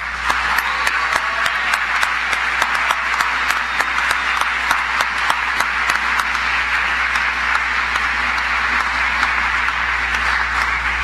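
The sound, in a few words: audience applause at commencement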